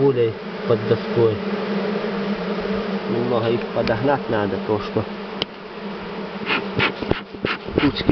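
Honey bees buzz loudly at a hive as they run in under a board. The insect drone is continuous and close, with someone speaking over it and scattered knocks and taps.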